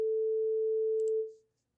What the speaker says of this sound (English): and then 440 sounds like this